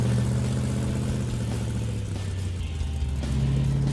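A Dodge Dart with a 440 engine and an exhaust leak runs close by, rumbling steadily with a low, uneven idle and a slight rev wavering through the middle.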